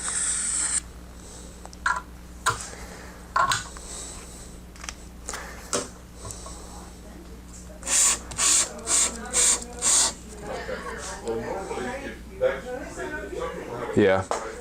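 Short raspy scrapes of a scratch test across the edge of groomer texturizer shears, several quick strokes, one rapid run of five near the middle, close-miked with a voice talking between them.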